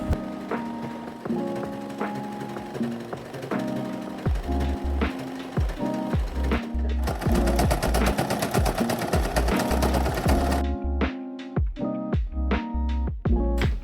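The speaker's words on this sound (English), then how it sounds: "Now please enjoy this aesthetic sewing montage." A sewing machine stitches fabric for a sleeve and garment body, its rapid mechanical chatter running in bursts beneath steady background music, with no talking.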